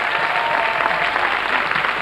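Steady applause from an audience, dense clapping that holds at an even level throughout, with no break or build.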